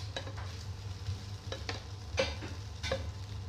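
Noodles stirred and fried in a pan, with soft continuous sizzling and a few sharp scraping stirs of a utensil against the pan at irregular intervals, close by.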